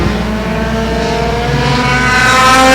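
Bomber-class race cars roar around a dirt oval track in a loud, continuous engine drone with rising revs as cars chase each other late in a Labor Day race, no voices heard.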